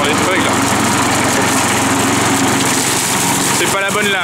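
A lawn mower runs loudly and close by, its engine droning at a steady high pitch with a brief change near the end.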